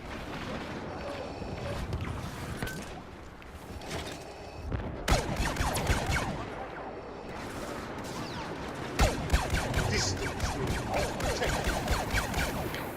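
Blaster cannon gunfire in the Star Wars Battlefront heroes vs. villains match on Hoth, with bursts of rapid energy shots and mechanical clatter over battle noise, dense and continuous with sharper volleys around the middle and end.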